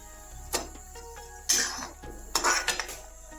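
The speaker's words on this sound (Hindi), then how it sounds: "इसके बाद हम इसमें गुड़ डालकर इसको चलाते रहेंगे।" A metal spoon stirring pani puri water with jaggery in a pot, producing a few irregular clinks and scraping bursts against the pot, close and fairly clear, with no talking.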